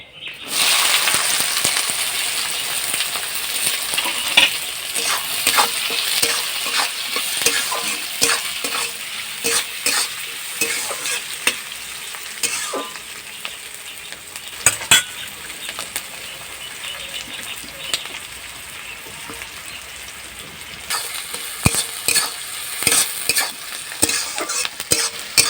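Chopped onion frying in a hot pan, a loud steady sizzle and hiss with repeated scraping stirs and metallic clinks of the spatula throughout, close and prominent, with no clear talking.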